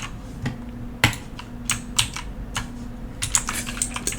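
Typing on a computer keyboard while coding a buffer overflow exploit, irregular sharp clicks in quick bursts close to the mic over a faint steady hum, no talk.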